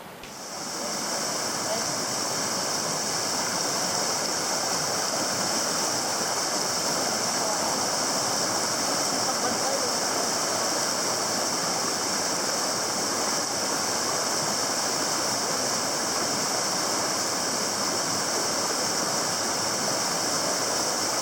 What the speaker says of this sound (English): soon enough we'd reached another river crossing.